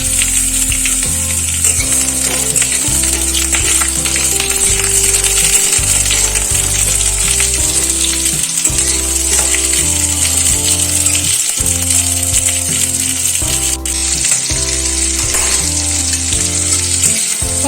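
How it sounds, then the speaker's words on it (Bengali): Pointed gourd fries in oil in a wok, giving a steady, loud sizzle with occasional stirring rattles. Tonal background music plays throughout. "কড়াতে আবারও খানিকটা তেল দিলাম, দিয়ে পটলগুলো ভালো করে ভেজে নিচ্ছি।"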